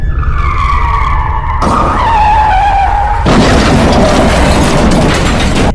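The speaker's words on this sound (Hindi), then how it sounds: "अचानक से गुल्ली के स्कूटर का टायर फिसल जाता है" Cartoon scooter tyre skidding loud and close, a long screeching whine falling in pitch, a second screech, then a harsh noisy crash-like burst that carries to the end.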